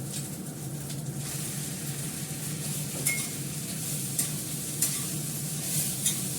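Chow mein stir-fried in a nearly dry pan with little oil sizzles steadily and loudly, with scraping stirs and occasional metallic clinks of the spatula against the pan.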